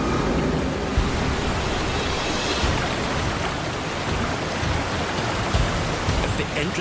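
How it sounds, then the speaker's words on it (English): A waterfall known as the Mouth of God rushes in a loud, steady, broadband roar that fills the scene without pause. "This waterfall is known locally as the Mouth of God."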